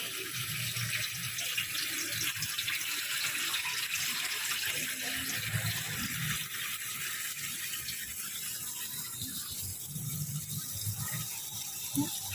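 Water trickles and splashes steadily as sprouting mung beans in a steamer pot are rinsed, a continuous close flow with faint clinks from the pot.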